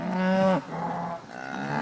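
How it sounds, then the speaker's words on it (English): Agitated cattle on a California ranch let out a loud, close moo that falls in pitch, followed by a second, fainter lowing call from the herd, with no talking. "We won't mess with these agitated cattle."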